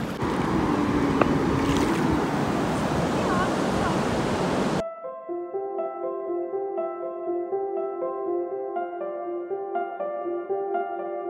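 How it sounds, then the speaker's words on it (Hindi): Sea waves wash in around bare feet at the shoreline on a beach, a close, steady surging rush for about five seconds before it cuts abruptly to music. "और पानी भी हमारे पैरों से टकरा रहा है।"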